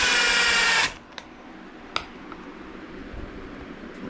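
A power drill drives long deck screws into a shop-built Kydex press with a loud, steady whine that cuts off abruptly after about a second, followed by a few faint clicks in a quiet room.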